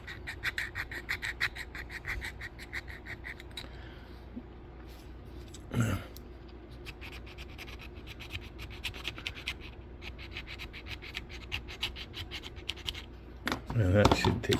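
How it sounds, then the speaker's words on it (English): Repeated rhythmic file strokes rasp against a diecast model, close and moderately loud, with a brief pause and scraping bursts; occasional speech is heard in the background. "I'm going to file a little bit more on it just to get that down"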